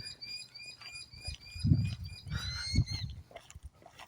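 Thin whistled bird notes ring out overhead while low rumbling grunts and outdoor noise fill the background.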